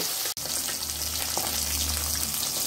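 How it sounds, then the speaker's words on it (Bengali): Bata fish frying in a pan as the pieces are flipped, a continuous dense sizzle with a brief clatter early on and a low hum underneath. "এভাবে উল্টে পাল্টে মাছগুলি আমি ভেজে নেব"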